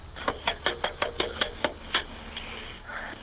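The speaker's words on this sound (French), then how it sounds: "On l'entend frapper à la porte." Knocking on a house door: a fast, even run of about nine sharp, loud raps close by, then a short pause with one more knock and faint background hum.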